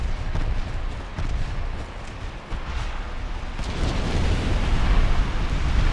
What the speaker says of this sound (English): Oh, flash fire.